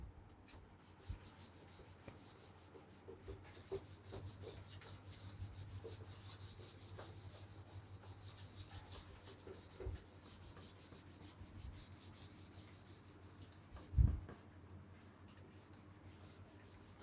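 A board being wiped clean of writing, a faint continuous rubbing with a low hum underneath and a single soft knock near the end, no talking.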